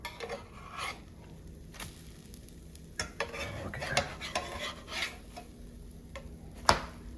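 Pancakes cooking in a pan, with a low sizzle and scattered scrapes and taps of a spatula as they are flipped.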